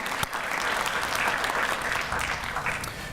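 A crowd at a Fair Housing Act 50th anniversary event applauds with dense, steady clapping that holds at an even level throughout.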